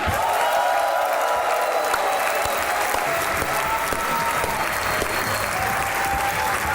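Loud, dense applause from a studio audience welcoming guests onto a comedy chat show, a steady roar of clapping that carries on unbroken from start to end.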